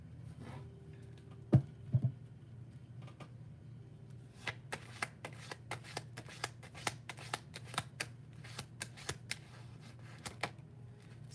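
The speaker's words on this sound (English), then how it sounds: "I have to straighten the cards out for a second." Tarot cards being straightened and shuffled, a few thumps followed by a run of quick crisp riffling snaps, close and isolated over a quiet background hum.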